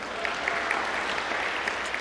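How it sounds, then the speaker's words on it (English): An audience bursts into brief, dense clapping, a continuous crowd patter at moderate loudness with no pauses. "Don't clap, online."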